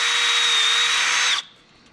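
A power drill whines loudly and steadily while boring into a wooden deck chair, then cuts off abruptly and winds down to quiet.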